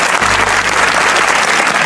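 Loud, dense applause from an audience fills the space, continuous clapping without pause.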